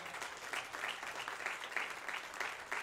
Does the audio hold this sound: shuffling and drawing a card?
no